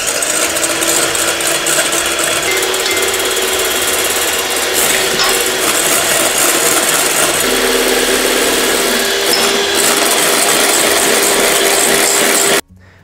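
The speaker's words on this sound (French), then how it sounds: "Il est temps de monter un blanc d'œuf en neige en y incorporant 45 g de sucre en poudre petit à petit pour former une meringue française." An electric mixer whips egg white with sugar into French meringue, a loud, close, continuous mechanical whir with a rattling, grinding edge that runs steadily and then cuts off abruptly at the end.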